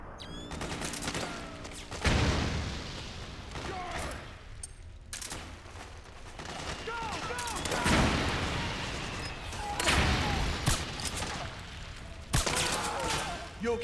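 Repeated pistol shots from an MK pistol in a video game, sharp cracks at irregular intervals amid chaotic combat noise, thumps and crashes, with a voice talking briefly in between.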